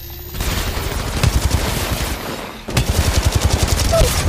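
Rapid bursts of gunfire in the battle royale shooter Apex Legends, loud and close, with rhythmic automatic shots pulsing in two runs separated by a brief break.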